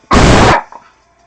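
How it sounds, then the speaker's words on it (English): A pet dog lets out one loud, sharp bark close by indoors during a quilting stream, followed by a faint short trailing sound. "Marley, stop barking."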